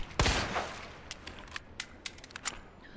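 The Spark Shot weapon discharges in Resident Evil 2 with one strong crackling burst, followed by a series of quick, sharp electric snaps fading out over the next few seconds.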